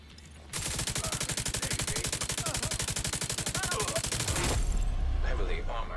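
Heavy sustained automatic gunfire in The Division 2 video game, a rapid, even stream of loud shots lasting several seconds before trailing into rumble and faint chatter.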